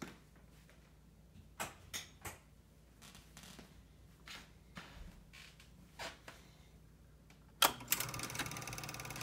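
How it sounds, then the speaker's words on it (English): An old Bolex 18-5 Silent film projector being handled, with scattered faint mechanical clicks and creaks before its motor kicks in near the end with a sudden, steady, louder whirring rattle. "Motor on, lamp on, nice projector, fairly quiet for being an old film projector"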